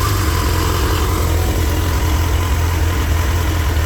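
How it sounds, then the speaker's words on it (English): A warmed-up 1997 Suzuki GSX-R 1100 motorcycle engine idling steadily and loudly up close, a constant low rumble with no revving or talk. "I've already warmed it up like I do with all my bikes before I give them a couple revs so you can hear what it sounds like."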